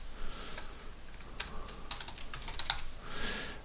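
Light, quick keystrokes on a computer keyboard tap out in short irregular bursts, close and quiet, with no talking.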